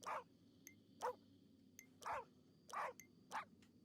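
A dog barks in the video game Haunted Paws: five faint, evenly spaced barks roughly a second apart over a low steady background hum.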